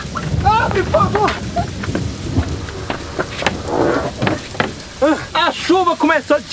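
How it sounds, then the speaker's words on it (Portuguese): Steady rain pours down with a dense hiss under excited children's and adult voices talking and shouting close by. "A chuva começou de novo!"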